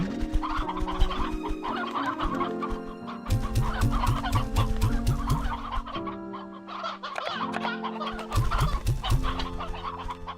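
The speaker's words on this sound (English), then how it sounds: "We'll pull out hens." Hens cluck and squawk together in a crowded pen in the Slime Rancher 2 video game, a dense, lively chorus of overlapping bird calls with no talk.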